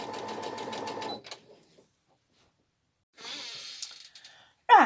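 Sewing machine stitching around the lining of a girl's dress in a straight stitch, a close rapid buzzing burst that stops, then a second shorter run after a pause, ending with a brief sharp noise.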